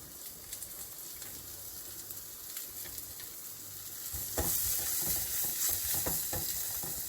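Onion pieces fry in a pan with turmeric, a soft sizzle with light stirring that grows louder and busier about halfway through.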